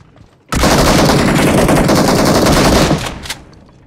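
Rapid automatic gunfire rips out in a dense, loud burst lasting about two and a half seconds during a battle royale mobile game, then cuts off, followed by a couple of fainter shots.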